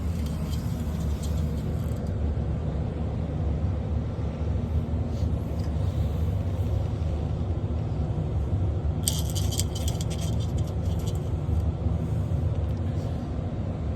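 An electric motor drives a newly replaced belt with a steady hum and a continuous light rattle. A burst of metallic clinking comes through partway, with no talking.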